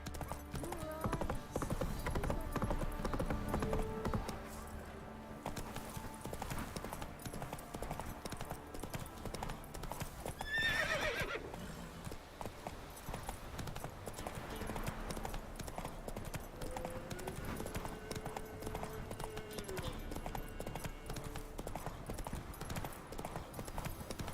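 A horse gallops in the video game The Witcher 3, with rhythmic hoof clip-clops throughout and a brief whinny partway through, set against game ambience.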